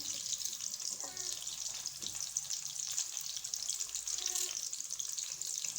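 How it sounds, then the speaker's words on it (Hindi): Two large onions, cut into thick pieces, fry in about half a cup of cooking oil, giving a steady hiss throughout with a few soft clinks from stirring. "तकरीबन हमने आधी प्याली लिया है कुकिंग ऑयल और इसमें ये 2 बड़ी प्याज मैं डाल रही हूँ"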